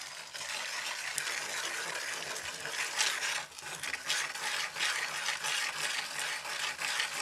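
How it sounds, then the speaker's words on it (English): A glass muller grinds paint pigment on a hard surface, making a steady, continuous gritty scraping and rasping for the whole stretch, fairly close and with no voices. "it like grinds up the pigment"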